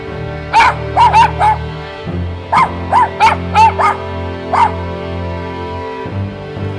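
A pack of dogs kept at a neighbour's property barks in close, loud bursts, two clusters of sharp yips and barks over a steady background hum, with no talk.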